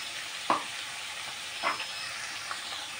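Turmeric, homemade chili powder and salt fry in a pan with a steady, soft sizzle, broken by a few short scraping stirs. It is close and quiet, with no voices.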